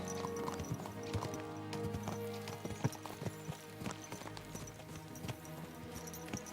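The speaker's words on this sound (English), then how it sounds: "Let's really spur these horses on, eh?" Horses gallop in the medieval game Kingdom Come: Deliverance II, with steady clip-clop hoofbeats and an occasional whinny over a constant background of music and ambience.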